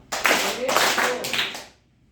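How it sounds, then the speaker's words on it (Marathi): Two or three quick claps of hands ring out close and bright in a classroom counting exercise, followed by a short silence. "दोन टाळ्या वाजवा"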